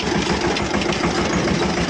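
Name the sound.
tractor engine running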